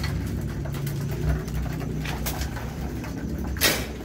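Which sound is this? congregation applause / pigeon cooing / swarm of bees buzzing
pigeon cooing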